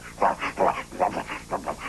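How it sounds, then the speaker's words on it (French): A dog gives a string of short, yippy barks with whimpering edges at a picnic with pet bunnies, about six quick calls in an uneven rhythm, close and fairly loud. "Oh, le chien."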